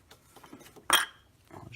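An oil filter lid and bolt are handled during an oil change on a BMW E46 M3, giving a single short metallic clink against quiet background rustle.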